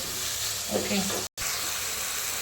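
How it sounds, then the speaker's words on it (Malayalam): Fish curry masala with salt sautéing in a pan gives a steady close sizzle and hiss, with stirring scrapes near the middle and a brief cut just past halfway. "പിന്നെ ശേഷം ഉപ്പിട്ടിട്ട് നന്നായിട്ടൊന്ന് വഴറ്റി കൊടുക്കുക."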